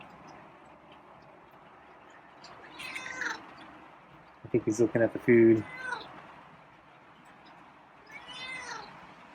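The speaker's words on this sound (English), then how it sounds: "I don't know why he's meowing there." A feral cat meows several times, short sharp cries clustered in a burst, with quieter mews before and after while a person talks softly nearby.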